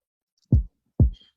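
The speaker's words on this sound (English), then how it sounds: "Sounds like a heartbeat." A heartbeat sound effect with two deep, booming thumps in a lub-dub rhythm, loud and close against silence.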